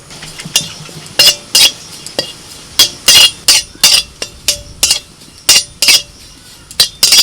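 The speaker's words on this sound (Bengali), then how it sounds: "এই কসৌরি মেথিটা একটুখানি শুকনো কড়াইতে নাড়াচাড়া" A spatula scrapes and clinks against a dry metal kadai while dried fenugreek leaves (kasuri methi) are stirred. The strokes come in quick, sharp, irregular bursts, close and fairly loud, with no talking.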